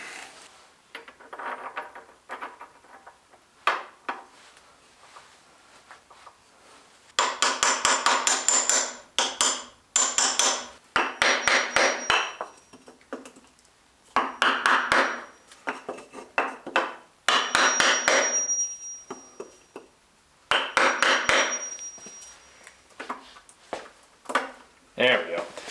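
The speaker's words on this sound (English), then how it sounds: "Perfect use of that little hammer." A small hammer taps during a lathe belt replacement, with bursts of light metallic knocks in clusters and brief pauses, and a person talking at times in between.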